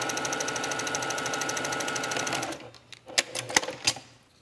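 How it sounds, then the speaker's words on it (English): A sewing machine runs steadily while sewing a quarter-inch quilting seam, a fast even mechanical whirr that stops partway through, followed by a few sharp clicks and taps of back stitching and handling. "we're gonna go ahead and sew these guys together with a traditional 1/4 inch seam, back stitching, of course, at the end"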